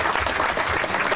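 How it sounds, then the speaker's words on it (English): Applause from a crowd at a Formula Ford Festival drivers' and legends' Q&A, as a racing driver is welcomed: a brief, dense burst of steady clapping filling the room. "Let's have a round of applause for Derek."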